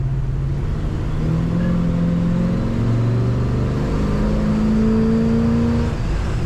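A 1967 Chevrolet C10 pickup's engine accelerates steadily, its note rising through several gear pulls, heard loud and continuous with no talking.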